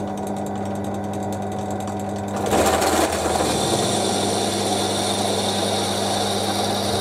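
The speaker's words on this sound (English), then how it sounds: "Right, so drill them out now." A drill bores holes in a Warco lathe compound slide, a steady motor hum that rises sharply into a louder grinding whine as the bit bites into the metal and keeps cutting.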